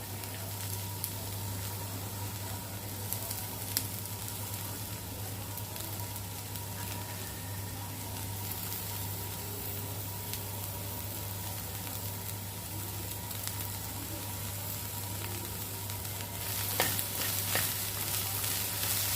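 Finely chopped onion fries in a pan for vendakka thoran, a steady close sizzle with occasional scraping stirs and a low background hum.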